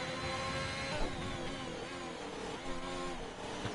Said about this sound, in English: You can enjoy the lovely engine sounds of the Haas car right now.